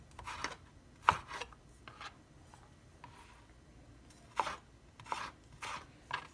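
A knife slices fish into thin strips on a cutting board, giving soft scattered cuts with a few sharper taps, quiet and close with pauses between strokes.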